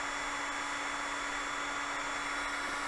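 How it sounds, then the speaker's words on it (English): A heat gun blows hot air onto a cracked plastic ATV fender, a constant whirring fan hiss with a steady tonal hum, unbroken and moderately close, with no talk. "going to take the heat gun and we're going to apply a little bit of heat"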